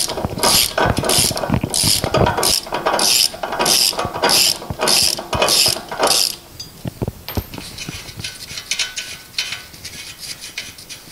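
A ratchet loosens bolts on the front brakes of a Subaru Sambar: loud, close, fast, steady clicking for about six seconds, then sparser clicks and mechanical rattles, with no talking.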